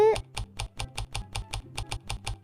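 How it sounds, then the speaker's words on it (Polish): Computer keyboard keys clicked in a quick, steady series of about a dozen sharp taps, close and fairly loud, with a brief voice-like tone at the very start. "I klikamy w klawiaturkę."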